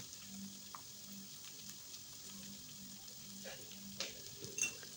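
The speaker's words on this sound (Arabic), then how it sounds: "حطيت التوم برضه هديها تقليبة كده مع البصلة" Minced garlic and onion sauté gently in a pan with a soft, steady sizzle, faint and close, plus a few light clinks and scrapes of a utensil stirring near the end.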